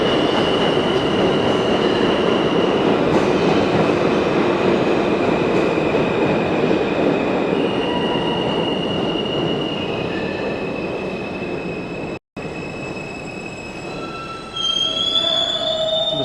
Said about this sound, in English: A late train.